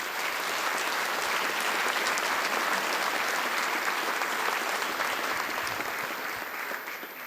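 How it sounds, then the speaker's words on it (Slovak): Sustained, dense applause from a concert audience at a Christmas charity concert in Košice, steady and loud throughout with a slight fade near the end. "a to si zaslúži váš potlesk"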